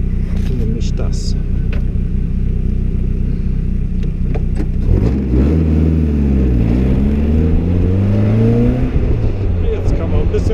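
Caterham sports car driving along country roads in the Oberbergisches Land, Germany, with a steady engine drone that swings into rising and falling revs as it accelerates, close and continuous over wind noise.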